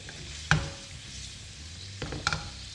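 Cherry tomatoes cooking in a pan for gnocchi sauce, a low simmering sizzle with a sharp utensil clack near the start and a couple of stirring scrapes toward the end, no talking.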